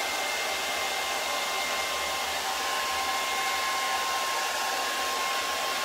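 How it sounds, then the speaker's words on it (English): A hair dryer blows steadily at close range, a loud, even rushing hiss with a constant motor whine and no pauses. "I don't recommend you hair drying, it's just for the purposes of live, really, that I get it out."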